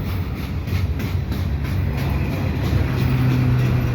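A CPKC freight train hauling flat cars rumbles past through Dorval in winter, a steady loud roll with faint rhythmic wheel clatter and a low sustained hum.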